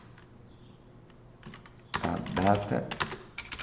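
Keys clatter in quick bursts on a computer keyboard while someone types text into an Android app project, a voice speaking briefly over the tapping.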